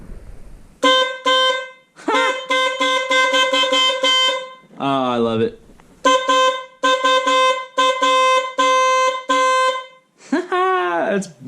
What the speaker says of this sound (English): Let's listen to it, see if the horn makes any noises.